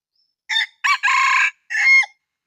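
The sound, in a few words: decoy rooster crowing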